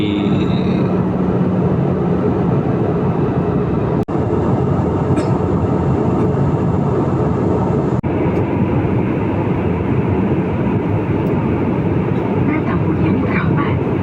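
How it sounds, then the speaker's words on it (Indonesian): AirAsia airliner cabin during descent for landing: a loud, steady broadband roar of engines and airflow fills the cabin throughout, with a couple of brief clicks or knocks. "pesawatnya udah siap mendarat alias landing ya guys ya. Ini sudah menurun nih pesawatnya nih."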